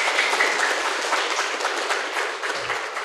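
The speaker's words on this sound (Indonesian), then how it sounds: "oleh karenanya tepuk tangan untuk itu." Warm round of applause from an audience at an Indonesian health transformation event, steady clapping from many hands filling the room for a few seconds without speech.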